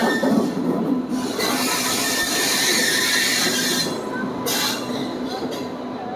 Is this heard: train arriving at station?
yes